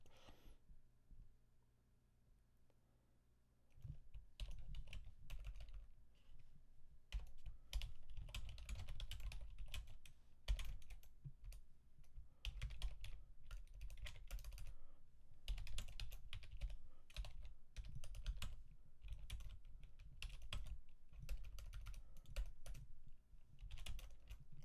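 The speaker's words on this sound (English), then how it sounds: "The question is being typed." Steady computer keyboard typing runs nearly throughout, dense clicking keystrokes at close range after a quiet opening few seconds, with no voices over it.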